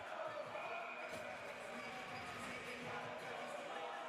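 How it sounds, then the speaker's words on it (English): Arena crowd at a Dayton Flyers versus Cincinnati Bearcats college hockey game, a steady, loud roar of cheering and noise that fills the whole stretch without letup. "Here comes the crowd."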